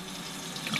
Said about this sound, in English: And just run some water.